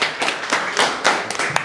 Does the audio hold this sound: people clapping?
yes